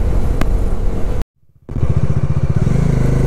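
A motorcycle rides along a highway from Kolkata toward Mandarmani on the Haldia–Digha road. The engine drones loudly and steadily, cuts out briefly into near silence, then returns with a throbbing, pulsing rumble and road noise.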